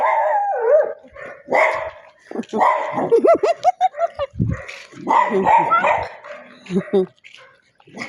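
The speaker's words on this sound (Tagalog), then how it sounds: "Ang tapang na yung aso." A dog barks, yips and howls repeatedly at close range, with people's voices mixed in and overlapping the excited vocalizing.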